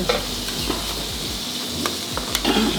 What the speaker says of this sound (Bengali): এটার মধ্যে পোলাওটা ফ্রাই হয়ে আসছে।